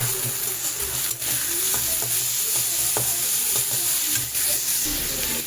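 Washed red lentils tipped into a pan of sizzling fried tomato and onion, giving a steady close hiss of frying broken by soft scraping stirs and small spatters, with no talking.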